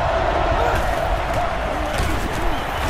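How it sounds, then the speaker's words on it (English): Stadium crowd roars steadily in the college football video game NCAA Football 09, Clemson at Florida State, a dense wall of cheering that stays loud throughout, with game commentary layered over it. "and this crowd is going crazy."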